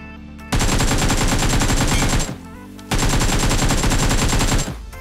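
Automatic fire from an AKM with a 6x scope in the BGMI battle royale game, two long sustained bursts of rapid, loud, close shots separated by a brief pause.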